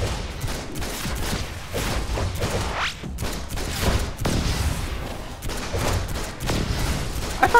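Sticky grenades go off in the DC Universe Online video game, a steady run of overlapping explosions and bursts of gunfire-like blasts layered over continuous action noise, moderately loud throughout.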